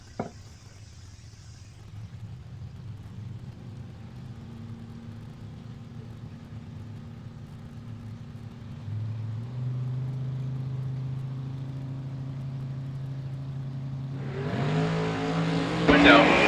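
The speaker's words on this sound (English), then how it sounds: "Jamie down running today, running Jed Nar's Camaro" Jed Nar's Camaro drag race car rumbles at the line with a low engine drone, then builds to a loud revving launch and roar near the end as it leaves down the strip.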